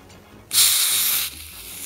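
A CO2 cartridge being tightened into a CZ-75 blowback airsoft pistol releases a sudden loud, close hiss lasting under a second, then cuts back to a quieter background.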